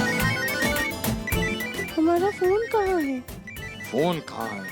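Telephone ringtone chiming in a Hindi television drama scene, a melodic repeating ring sounding under and between people talking.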